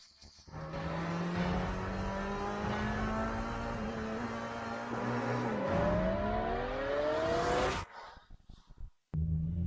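A race car engine roars close and loud, its pitch climbing steadily through the gears before cutting off abruptly into near silence.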